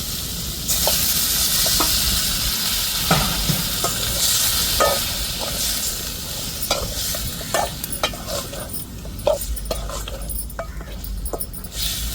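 Steady sizzling as chicken fries in a pan with occasional stirring clatters, continuous and close, no talking.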